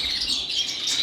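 Native finches and canary mules in a home bird room, thin high chirps and tweets overlapping at a fairly low level, close by, with no talking.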